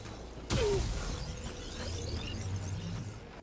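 A short mechanical charging whir of a Tesla tower in Helldivers 2 kicks in with a sharp onset, followed by a faint rising electric hum and creaking undertones.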